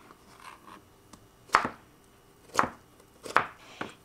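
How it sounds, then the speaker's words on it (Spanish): Four sharp knife chops through radishes on a cutting board, spaced unevenly about a second apart, close and crisp with quiet pauses between. "Y después lo vamos a estar picando."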